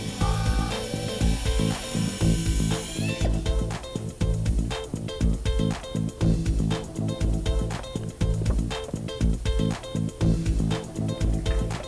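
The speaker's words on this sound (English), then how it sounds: "then we grind out any hammer marks that are in the cupping area" A propeller blade being ground to remove hammer marks in the cupping area gives a loud, continuous abrasive tool sound with rapid rhythmic scraping pulses throughout.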